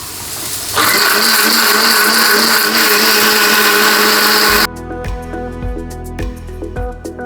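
A kitchen mixer grinder whirs loudly and steadily as it grinds chutney to a paste for dosa, then cuts off, leaving clattering and handling noises of the jar.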